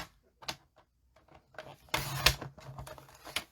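A quarter sheet of paper, 4 1/4 by 5 1/2 inches, being cut to size for a butterfly bouquet craft. Several short crisp swipes and clacks, close and moderately loud, with a sharper burst in the middle and quieter scraping around it.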